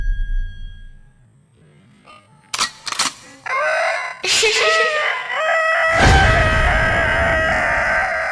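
Shamo chickens in a home yard: a rooster crows loudly a couple of times amid scattered clucks and handling noises, with faint background sounds.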